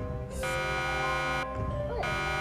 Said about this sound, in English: An alarm is going off.